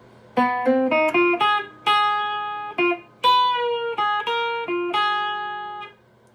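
Opening phrase of a 12 bar blues in A played on guitar with string bends, a run of clear plucked notes, some sliding in pitch, ringing one after another and fading out at the end.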